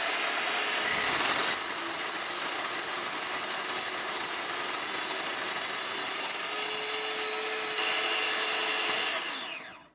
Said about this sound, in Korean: 약배전인데도 문제없이 쫙쫙 갈아줍니다